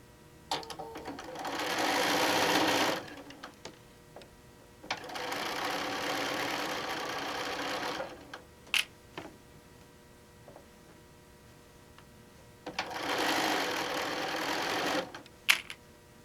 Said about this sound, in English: we're going to sew this down